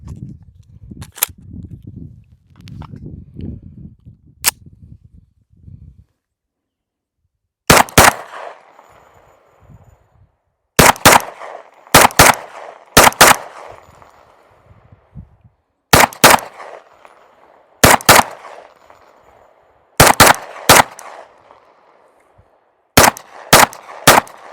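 Rapid pistol shots from a Glock fitted with a Stealth Arms Platypus, fired outdoors in tight strings of two to four loud, sharp cracks separated by short pauses, with quieter handling noise at the start.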